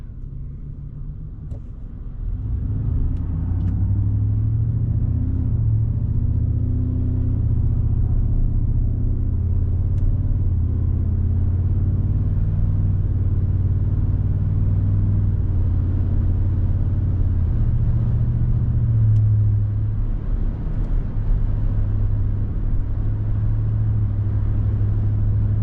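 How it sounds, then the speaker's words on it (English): A 2023 Ford F-150 with the 5.0 V8 and a Flowmaster FlowFX exhaust pulls away from a stoplight in eco mode, its deep, steady exhaust rumble building and holding loud through gentle acceleration. "we'll just see what it sounds like while accelerating normally"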